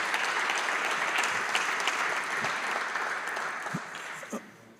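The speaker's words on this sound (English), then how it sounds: "I think a big round of applause is due to them" A summit meeting audience claps warmly and steadily, the applause gradually thinning and fading out toward the end.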